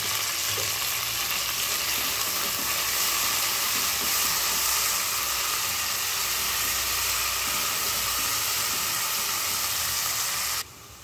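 Onions fry lightly in a pan for chicken curry, giving a loud, steady sizzle and hiss that runs without a break and drops off abruptly at the end.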